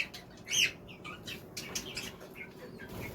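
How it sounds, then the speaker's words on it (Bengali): A finch chirps in short bright bursts, with soft wing flaps now and then, close by and fairly quiet against a low background. "এই দেখো ফিঞ্চ পাখিটা এখানটা বসে রয়েছে"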